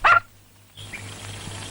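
A dog gives one short, loud bark up close, then it goes quiet except for a low steady hum.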